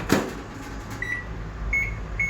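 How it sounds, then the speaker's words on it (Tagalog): An oven heating washed Japanese sweet potatoes gives a steady low hum after an opening thump, with a few short, high electronic beeps sounding near the end. "salang natin sa oven."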